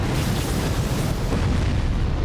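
A rocket launcher blast in the mech combat game Armored Core 6: a dense, loud, rumbling explosion roar that fills the whole moment without letting up.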